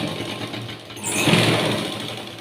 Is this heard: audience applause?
no